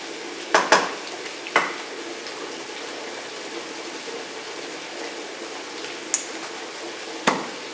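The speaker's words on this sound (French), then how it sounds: "Nous allons passer maintenant à la friture de ces légumes" Vegetables fry in a pan for Sunday chicken yassa, a soft steady sizzle running throughout, broken by a few sharp clinks of a utensil against the pan.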